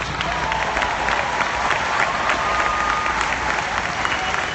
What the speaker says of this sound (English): Clap your hands if you decided to.